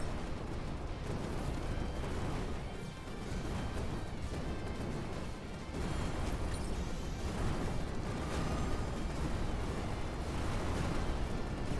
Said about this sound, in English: As long as I'm far enough away from the giant explosions of death.